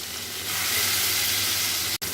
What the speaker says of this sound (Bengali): এক এক করে সমস্ত মাছ আমি ভেজে নেব হালকাভাবে, বেশি কড়া ভাজবো না